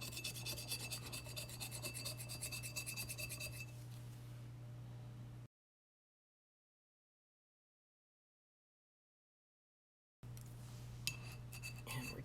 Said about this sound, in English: And I'm just going to continue to scrape, but you see how easy this is?